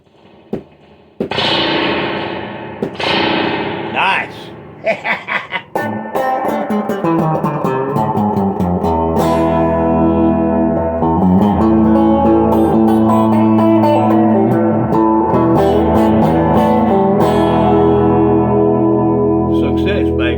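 An electric guitar rings out through the heavy spring reverb of a 1996 USA-made Fender Hot Rod Deville 4x10 amp, notes smearing into a long wash after a few sharp plucks and a brief spoken word.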